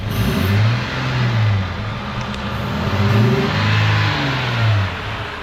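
A 2021 Jeep Gladiator pickup engine with a performance intake revs up and settles twice in a row, a deep throaty roar rising and falling, loud and close with no talking.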